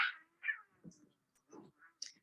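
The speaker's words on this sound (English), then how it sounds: "You'll hear cats that scream or yell like that, and it's to intimidate the people that are around him." A stressed cat yelling to intimidate people around it, likely at a veterinary setting: several short, harsh yowls and meows in quick succession, separated by brief pauses, close and moderately loud.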